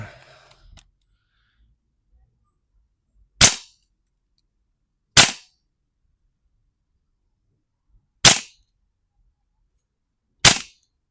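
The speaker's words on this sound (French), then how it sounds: "j'ai tiré 12 billes, donc ça va, le chargeur est pas encore vide" A Noveske N4 gas blowback airsoft rifle fires BBs in four sharp, separate cracking shots spaced a couple of seconds apart, each loud and close, with near silence between them.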